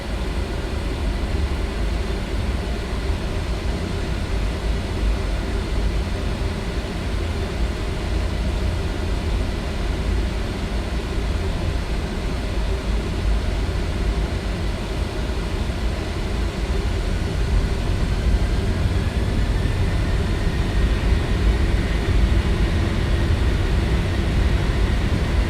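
Takeoff roll of an Embraer E-190 airliner on Helsinki's runway 04 right in a flight simulator game: a steady, loud, continuous jet engine roar with broadband rumble, holding constant and rising slightly near the end, with no voices.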